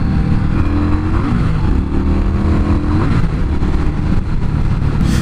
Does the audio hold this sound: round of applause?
no